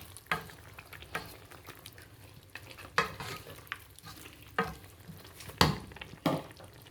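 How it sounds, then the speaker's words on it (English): Sliced beef is stirred in a pot for Chinese beef sauce, giving several distinct scraping, clattering strokes at irregular intervals over a faint sizzle, close but fairly quiet. "So I will now stir everything together."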